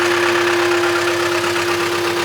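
A four-wheel-drive vehicle's engine given a little throttle while stuck in a cornfield: a loud, steady, droning rumble with a constant hum, close by and unbroken, with no voices.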